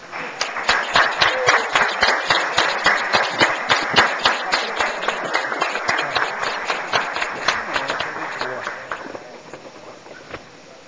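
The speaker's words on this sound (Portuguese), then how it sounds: "Eu peço aos nobres pares e ao público presente que em pé façamos uma salva de palmas." Council members and the public stand and applaud together in a chamber, a brisk run of crisp rhythmic claps that stays fairly loud for about eight seconds, then tapers off and fades out.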